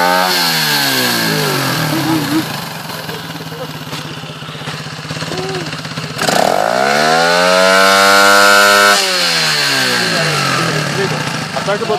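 A motorcycle engine runs close by, buzzing with a rough idle that rises and falls in revs, surging sharply near the middle before settling, with a faint voice in the background.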